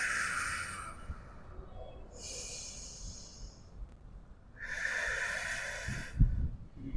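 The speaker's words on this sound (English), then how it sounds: "Inhales, exhales." Slow breathing in and out during a yoga session focused on the lumbar spine, three airy breaths with pauses between them, close and clear.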